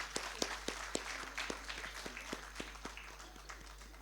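Applause from an audience at a book launch, with scattered, fairly sparse hand claps in an uneven rhythm, faint and somewhat distant, lasting a few seconds.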